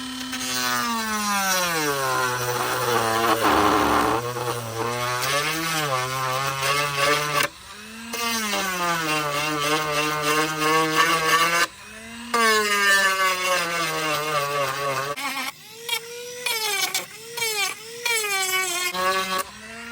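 A power tool grinds and sands the edge of a Razor scooter swing arm in bursts, its motor whining up and down in pitch with short pauses between passes, loud and close.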